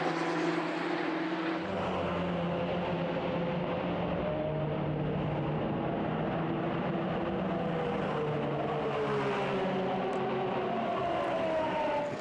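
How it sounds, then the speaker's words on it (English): Supercar Challenge race cars circle the Red Bull Ring with many on track, a continuous engine roar with rising and falling pitch sweeps as cars pass at a distance. "we have got quite a lot of cars on track, 34 in total"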